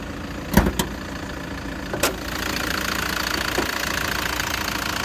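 A 2013 Toyota Land Cruiser Prado GXL engine idles in its open bay, a steady, even mechanical hum with a few sharp clicks and knocks near the start, heard close up with no talking.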